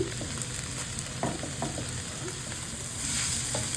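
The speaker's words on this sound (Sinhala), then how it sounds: "කැරට් ටිකයි ගෝවා ටිකයි මම එකතු කරගන්නවා දැන්." Carrots and cabbage frying in a hot pan while seafood rice is cooked, giving a steady close sizzle with a few brief stirring clicks, rising slightly louder near the end.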